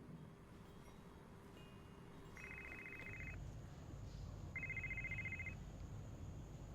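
Telephone ringing softly in two short electronic trilling bursts separated by a pause, over a low background rumble, with no speech.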